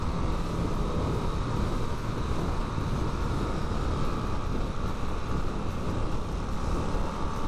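A Harley-Davidson Nightster motorcycle rides along curvy roads near Rogers, Arkansas, its steady engine rumble blended with heavy rushing wind noise, continuous and close throughout with no talking.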